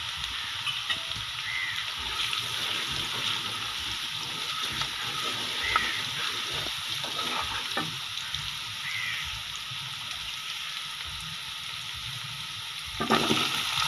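Spinach and potato curry sizzling steadily in a pan, a continuous bright frying hiss with occasional stirring scrapes and small splashes.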